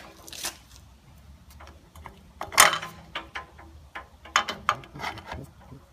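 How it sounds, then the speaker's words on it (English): An adjustable wrench works on the wedge washer of a carriage bolt set through an aluminum tapered shim, giving scattered metallic clicks and ratchety knocks with a sharper clank near the middle and a cluster of taps toward the end. "take an adjustable wrench to set it on the wedge washer to keep it"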